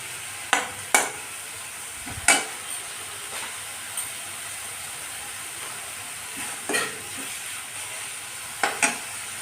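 Tomato cooks in oil in a pan for a fish curry with ridge gourd, a soft steady sizzle broken by several sharp scraping clatters of a spatula against the pan.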